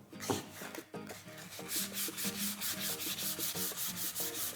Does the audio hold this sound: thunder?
no